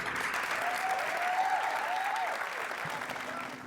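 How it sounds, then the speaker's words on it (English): Big round of applause from the crowd at a high school athlete's letter of intent signing, as the parents are welcomed to the podium; sustained, even clapping with a faint whistle-like tone over it, fading slightly toward the end. "Please join me in a big round of applause and welcome to the podium"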